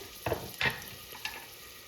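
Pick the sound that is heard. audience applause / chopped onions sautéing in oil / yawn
chopped onions sautéing in oil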